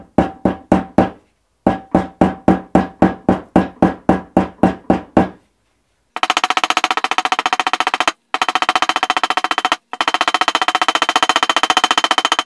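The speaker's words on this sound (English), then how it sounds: "I'm going to take my hammer, and I'm just going to knock down these stitches just to close up these holes." A hammer knocks down the stitches on wet-molded leather to close the holes. Two quick bursts of rapid, evenly spaced sharp taps are followed by long stretches of dense, fast tapping with two short pauses.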